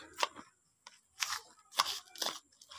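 Fish bait pellet mixture for catfish, worked and stirred by hand, giving several short crunchy, gritty bursts separated by brief pauses, close and fairly quiet.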